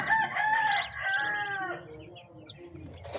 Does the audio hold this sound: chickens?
yes